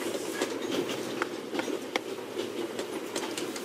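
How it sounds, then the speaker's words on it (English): Train noise aboard the Orient Express in a video game, a steady rumbling interior hum with faint rhythmic clicks and rattles of the carriage, moderately loud and continuous, no talk. "The noise on this train is driving me crazy"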